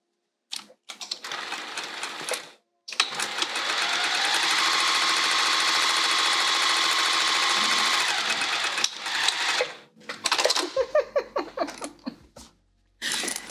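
A sewing machine stitches a quilted pouch in one long steady run of close, loud whirring, with short bursts before and after and a few starts and stops at the end.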